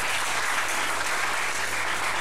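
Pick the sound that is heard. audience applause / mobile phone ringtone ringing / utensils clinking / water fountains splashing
audience applause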